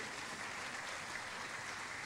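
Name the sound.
congregation applauding the word of God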